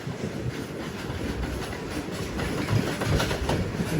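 A coal goods train rolls past near Bibinagar outside Hyderabad, a steady broadband rumble of rail cars with faint clickety-clack that swells slightly toward the end, heard continuously with no talk.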